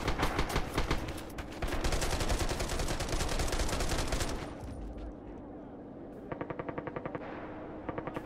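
Gunfire in Red Orchestra 2, a WWII shooter: dense, rapid machine-gun bursts rattle loudly for several seconds, then thin out into a quieter lull before another short, rhythmic string of shots.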